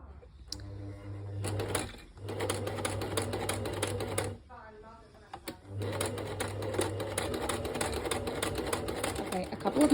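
A sewing machine zigzag-stitches reinforcement lines along a knitted steek, running in two close, even bursts with a brief pause between, while a person talks quietly over it.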